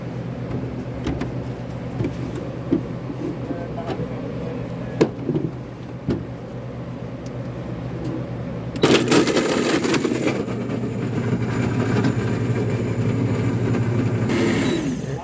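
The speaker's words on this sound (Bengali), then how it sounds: "এবার আমাদের মিক্সার করা হয়ে গিয়েছে, অফ করে দিলাম" An electric mixer blends a karkade drink with ice, starting with a sudden loud whir after a quieter stretch of background noise and then running steadily.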